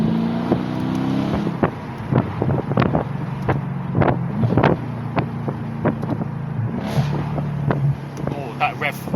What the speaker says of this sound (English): This is what a V8 should sound like.